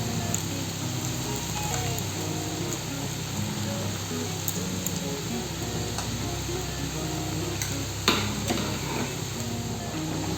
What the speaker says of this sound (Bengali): কম আঁচে বড়াগুলো ভেজে নিতে হবে।